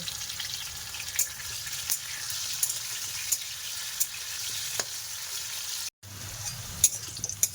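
Potatoes fry in splattering oil in a village kitchen, giving a steady close sizzle dotted with sharp pops and crackles, with a brief dropout near the end before the frying resumes.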